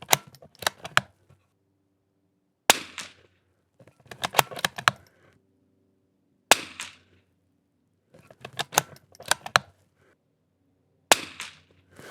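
Shots from a Super BRNO SAA 2500 rifle at target practice: sharp cracks, several rapid in each burst, in four distinct bursts with quiet gaps between them and no talking.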